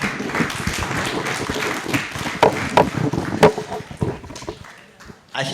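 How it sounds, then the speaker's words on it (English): At a book launch an audience gives a round of applause, with scattered, uneven claps and a few loud, sharp hits mixed with background voices, tapering off before a brief return. "A round of applause one more time."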